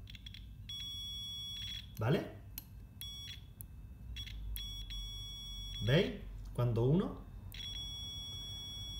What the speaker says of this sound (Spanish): cuando yo uno o cierro el circuito, hará un pitido